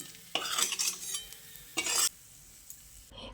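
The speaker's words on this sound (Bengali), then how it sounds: "এবার ওই তেলের মধ্যে কাজু কিশমিশগুলোকে ভেজে নিচ্ছি" Cashews and raisins fried in oil for a vegetarian cabbage dish, heard as two brief bursts of stirring and scraping in the pan with a soft sizzle, with quiet gaps between them.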